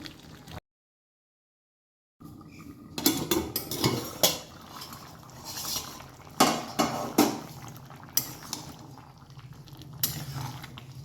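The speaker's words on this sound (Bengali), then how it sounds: "একবার নেড়ে চেড়ে দেখছি লাউটা কতটা কি হয়েছে" A spoon stirring chunks of bottle gourd in a metal cooking pot, with scraping and clinking in irregular bursts, fairly close, after a brief silence at the start.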